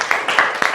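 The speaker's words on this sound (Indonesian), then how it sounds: "Tepuk tangan dulu" Brief burst of audience applause at a university teacher-training session in Singaraja, a short spell of dense, fairly close hand clapping.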